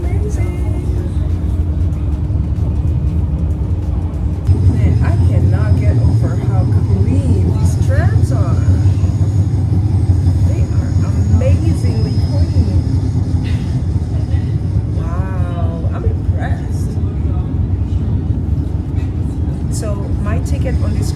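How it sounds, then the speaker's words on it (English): Interior of a moving tram in the Netherlands: a steady low rumble and hum of the running car with occasional squeaks and rattles, while someone talks over it throughout. "I am in the tram."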